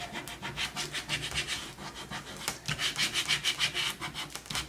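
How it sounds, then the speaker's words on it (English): A credit card rubs adhesive vinyl down onto a wooden surface, giving repeated close scraping strokes in bursts, with a brief pause midway before the rubbing resumes more vigorously. "rub it again with your credit card"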